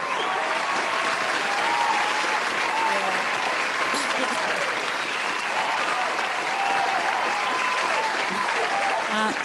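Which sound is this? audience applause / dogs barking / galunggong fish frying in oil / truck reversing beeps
audience applause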